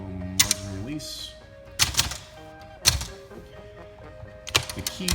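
Mechanical clunks and thunks from a 1967 Olympia SF portable typewriter as the line lock and margin release are worked, three or four sharp close knocks with a faint ringing tone between them.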